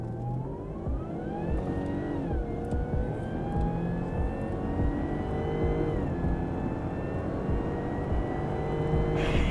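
A Jaguar XF engine revs and pulls through the gears, its whine climbing in pitch and dipping briefly at each shift, continuous and fairly loud.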